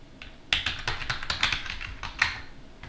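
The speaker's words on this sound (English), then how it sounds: "I'm just gonna type sudo dnf install rpi imager." Rapid clattering keystrokes on a computer keyboard as a terminal command is typed, a quick irregular burst of close, crisp taps with no talking.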